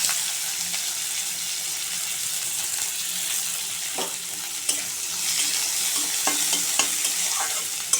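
Chopped onion frying in hot oil with black cumin in a kadai, an even hiss of sizzling punctuated by a few sharp spatula taps and scrapes, close up and without talk.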